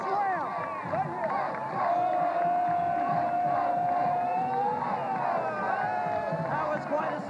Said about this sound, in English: You have a special cheer here, right? Let's hear a special cheer.